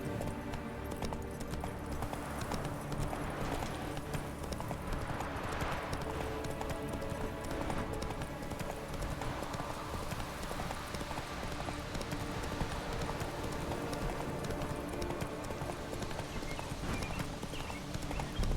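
A horse gallops in The Witcher 3 with a fast, continuous clip-clop of hooves that stays steady and prominent for the whole stretch.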